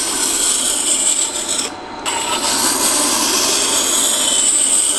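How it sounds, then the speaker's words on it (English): A woodturner's spindle gouge chisel being ground on a sharpening grinder, a loud continuous rasping whine that dips briefly as the steel lifts off the wheel, then resumes, with no talk. "And I'm going to keep grinding until I see a burr being created on the inside of this spindle gouge."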